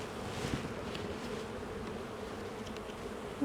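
A steady, dense drone of many honey bees buzzing close by in a hive, continuous and unbroken with no voices, ending in a brief louder rustle.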